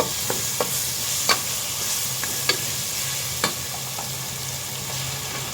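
Garlic paste sizzles steadily in a hot frying pan while a utensil stirs and scrapes, giving a few sharp clicks over the continuous hiss, close and alone without any voices.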